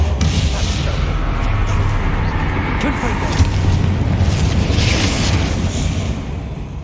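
A Bombarda spell blast in Hogwarts Legacy inside a tomb, heard as a loud, sustained rumbling boom that fills most of the clip and fades slightly near the end.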